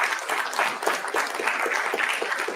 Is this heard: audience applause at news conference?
yes